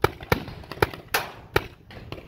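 Paintball gun shots during an outdoor paintball game crack out in sharp, close bursts, about six pops spaced irregularly over a couple of seconds, with faint ambient noise between them.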